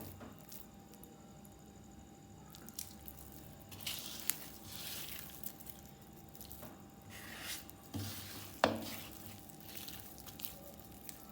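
Pumpkin bonda batter with chopped coriander being mixed by hand, giving quiet, wet squishing and soft slapping sounds at an irregular pace, with occasional sharper taps, with no talking.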